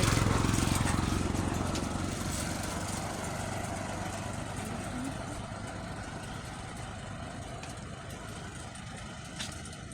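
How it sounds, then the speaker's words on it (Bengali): A river boat's engine drones steadily as it approaches on the river, a rough mid-pitched hum with broadband wind-like noise that eases slightly in loudness over time. "ওই সামনে আরেকটা নৌকা আসতেছে।"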